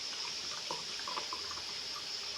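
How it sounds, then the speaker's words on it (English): Milk poured from a container in a home kitchen: a steady, continuous liquid rush runs close and fairly loud for the whole stretch, with no talking over it. "So nice to pour some milk."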